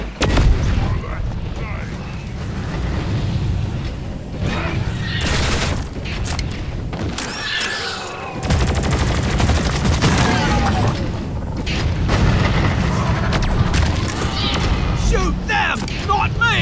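Grenade explosions in the video game Deep Rock Galactic, loud booming blasts layered over dense gunfire and chaotic combat noise throughout, with players' voices calling out over the din.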